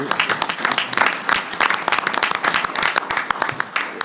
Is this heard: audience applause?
yes